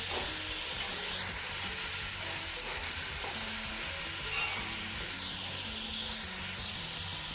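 Chana pulao with chickpeas sizzles steadily in a hot pan as it is fried and stirred, a loud, dense hiss running throughout with light scraping of the stirring.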